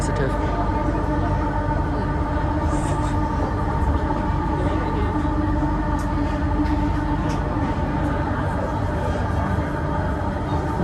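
Steady rumble of a commuter train running on rails near Lembah Subang, heard from inside the carriage as a dense, continuous roar with faint rattles and no speech.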